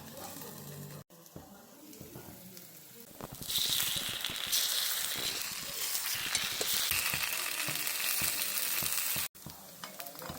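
Carrot and drumstick-leaf paniyaram fry in oil in a covered pan, a steady loud sizzle and crackle that swells after a few seconds and continues evenly, with faint clinks early on.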